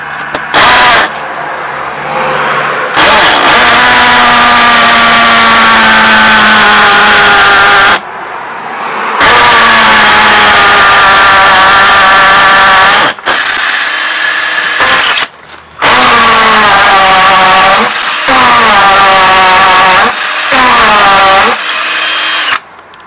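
A power drill with a 6 mm bit bores into a wall during a repair, loud whining bursts with rising and falling pitch, stopping and restarting several times with short pauses between runs.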